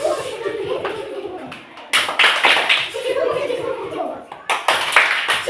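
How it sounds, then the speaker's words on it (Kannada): A group of children do a train-style clapping routine in a classroom, bursts of quick rhythmic claps alternating with chanted voices, fairly close, with some laughter. "ರೈಲು ಚಪ್ಪಾಳೆ."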